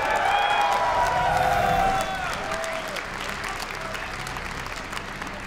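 A crowd at a StarCraft II tournament bursts into loud applause, clapping and cheering that gradually thins and fades while a voice talks over it.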